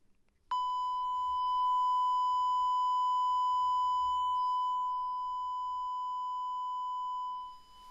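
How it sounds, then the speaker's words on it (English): A single clear, high-pitched 1000 Hz sine test tone, recorded through a SYNCO Mic-D1 shotgun microphone, starts abruptly and sustains evenly for about seven seconds before cutting off. "Now let's use a 1000 hertz tone to see what type of noise rejection this gets."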